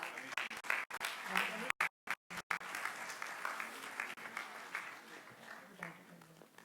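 Audience applause at the 35th ICAI Dubai annual conference: a fairly quiet, steady patter of many hands clapping for a speaker, with brief dropouts and an announcer speaking over it.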